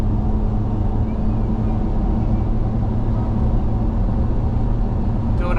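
A GWM Cannon Ute under full throttle climbing uphill while towing, its engine drone a steady, loud, low rumble mixed with road and cabin noise throughout, with no clear change in pitch.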